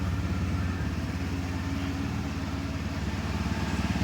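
TVS Raider 125 BS6 motorcycle engine idling after being started, a faint, steady low putter with even rhythmic pulsing throughout.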